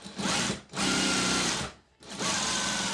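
Sewing machine stitching the side slit of a dress: three loud, close, whirring runs of rapid needle strokes with short pauses between them and no talking.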